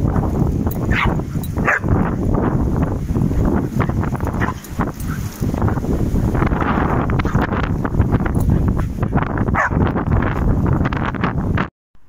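A dog barks and whimpers outdoors, with rough, broadband bursts scattered over steady wind buffeting the microphone for about twelve seconds, the sound cutting off near the end.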